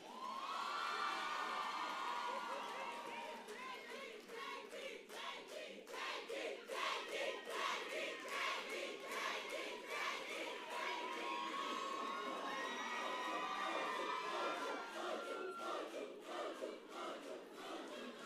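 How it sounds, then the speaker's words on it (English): Graduation ceremony audience for a Faculty of Management Sciences cheering and shouting in a loud, sustained crowd roar with whoops and some clapping, steady throughout. "Please give them a big round of applause"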